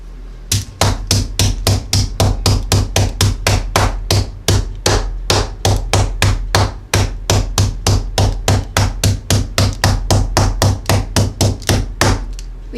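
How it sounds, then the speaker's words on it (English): Meat mallet pounding steak on a board to tenderize it for cheesesteak stuffed peppers, dozens of loud, evenly spaced thuds in a fast, steady rhythm, close and alone without talk. "she's going to tenderize the meat"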